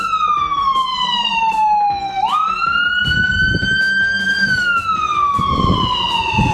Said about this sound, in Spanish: Mira, ahí viene una ambulancia por ahí.